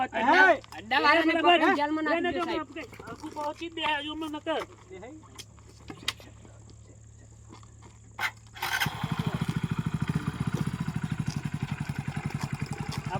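A motorcycle engine starts up partway through and keeps running close by with a steady, pulsing rumble, after a stretch of people talking.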